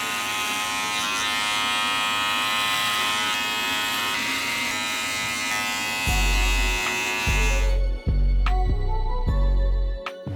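A Gamma electric hair trimmer hums loudly and steadily while removing bulk during a buzz cut, then its tone shifts and cuts in and out in several short pulses near the end.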